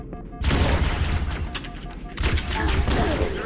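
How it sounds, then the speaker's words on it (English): A grenade blast followed by rattling automatic gunfire in S.T.A.L.K.E.R. Anomaly, loud and close, a heavy boom and then sustained bursts of shots with a second surge of fire, while someone speaks over it. "They're suppressing me with a grenade before I can get him."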